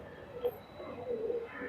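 A male pigeon held in the hand gives a soft, close coo, with a short note early on and a longer low rolling coo near the end over quiet background.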